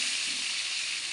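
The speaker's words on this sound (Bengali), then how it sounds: "এবার লাল লাল করে ভেজে নেবেন ডিম" Eggs sizzle while frying in hot oil over a high flame for an egg curry, a steady close bright hiss with no speech.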